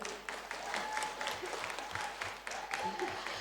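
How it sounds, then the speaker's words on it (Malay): Delegates at a Malaysian political assembly for Sabah applaud in a hall, a fairly soft, continuous patter of clapping with a few deeper thuds scattered through it. "Beri tepukan gemuruh."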